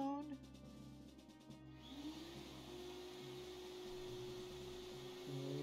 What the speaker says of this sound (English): Why the vacuum noise?